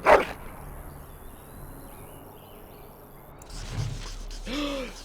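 A dog in the video game Dragon Age: Origins gives one short, sharp bark at the start, followed by quiet ambience and a couple of later low vocal sounds.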